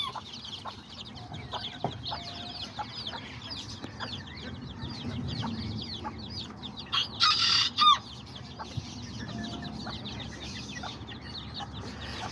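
Kikiriki and Azteca chickens and roosters clucking together in a flock, with many overlapping soft clucks and chirps throughout and a brief louder call partway through, moderately near, no talk.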